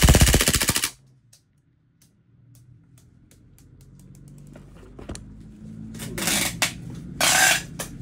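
A WE G35 G-Force airsoft gun fires on full auto in a rapid burst that rattles briefly and stops. Mechanical clicks and handling noises follow, then two more short loud bursts near the end.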